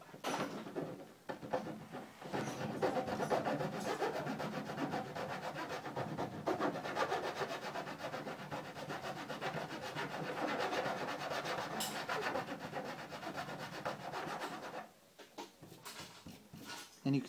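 Fine file scraping back and forth over dry clear coat on a Ford F250 truck body, a continuous close rasping rub with repeated strokes, easing off briefly near the end before a final stroke.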